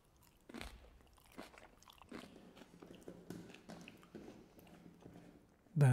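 Crisp crunching bites and chewing of Daesang Jongga kimchi, close to the mic, in a steady irregular rhythm with a louder crunch at the end.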